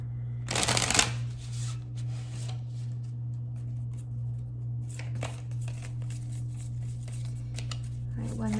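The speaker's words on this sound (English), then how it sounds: "Let's get one more shuffle here for you." A deck of tarot cards is riffled in a quick burst near the start, followed by softer handling and light shuffling over a constant electrical hum.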